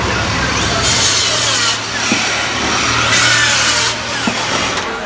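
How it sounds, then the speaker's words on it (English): A DEWALT 60-volt worm drive style cordless circular saw rips through wood in two loud, close cuts, the blade's hiss swelling over a steady motor whine between brief pauses. "It's truly a saw that's tough to bog down."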